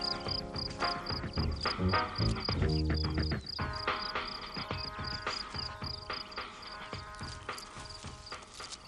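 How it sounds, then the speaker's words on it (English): House crickets chirping on warm ground at a rubbish dump heated by decomposing waste, a steady high trill running throughout alongside irregular rustling and low thumps, fairly loud and close. "House crickets only live on warm ground, and the dump suits them remarkably well"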